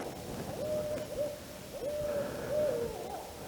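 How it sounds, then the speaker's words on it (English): An owl hoots at night in a Georgia swamp, several drawn-out calls at a moderate distance, repeated in a loose rhythm over a steady hum of insects and night ambience. "There's that owl"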